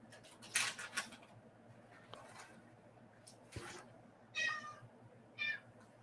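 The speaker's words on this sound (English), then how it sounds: "My cat was meowing," A pet cat gives several short, faint meows, some of them soft and broken, spread across a few seconds in a quiet indoor room along with small rustling sounds.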